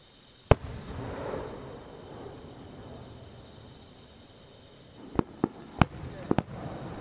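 Village fireworks during the Obon holiday in quiet countryside: one sharp bang, a stretch of faint background hush, then a cluster of several loud cracks in quick succession near the end.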